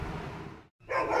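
A dog barks close and loud in a steady agitated stream, falls silent for a moment, then bursts out again even louder.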